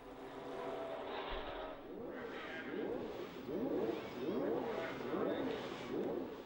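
Several 1970 Formula One race cars pull away at a race start, with loud engines rising and falling in pitch as they pass in close succession, forming repeated sweeping surges over a steady background roar.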